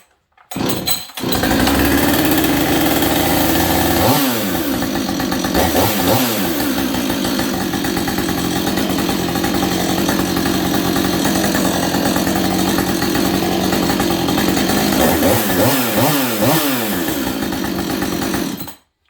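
A Husqvarna 562XP chainsaw with a scored cylinder and a new full-wrap handle starts after a short pull, then runs loud and close at a steady idle, with two bursts of revving partway through and near the end before it cuts off.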